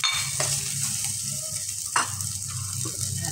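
Chicken pieces sizzle loudly as they fry in a pan for chicken misua with patola, a steady crackling hiss broken by a couple of sharp stirring clatters.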